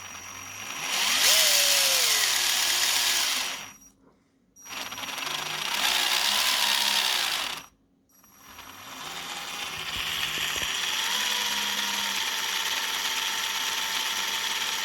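Electric motor of a King Kong RC CA30 6x6 truck running free without the wheels attached, a loud high whirring whine that rises and falls, cutting out twice before spinning up again.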